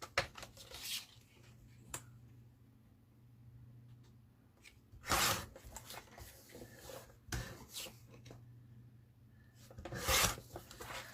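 A paper trimmer slices craft paper to 5.5 by 3.5 inches. A few short, sharp rasping swipes stand out against a quiet room, with soft rubbing and handling noises in between.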